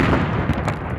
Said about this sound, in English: the caller shouting for the iftar cannon to go off